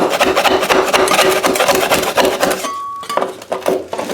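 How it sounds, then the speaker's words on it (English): Scraping of thin-set mortar off bathroom tile during a renovation, a steady loud raspy rubbing that runs continuously and then breaks into shorter strokes near the end. "There's a little bit of thin set that gets scraped off."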